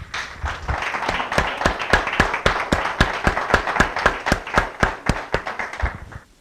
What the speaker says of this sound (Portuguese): Vamos mais uma vez dar uma salva de palmas para o nosso Deus.